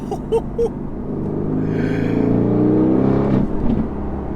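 A Mercedes-AMG A35 engine revs up, rising into a throaty rumble that swells and then drops away, heard without any talking.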